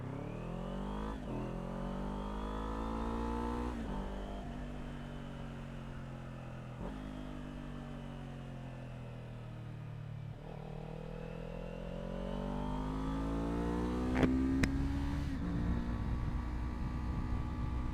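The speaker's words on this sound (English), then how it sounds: "a 270-degree twin does have a pretty nice sound to it" Kawasaki Ninja 400 motorcycle with a 270-degree parallel-twin engine running, a steady close engine drone with harmonics rising and falling as it revs through gears, continuous and alone throughout.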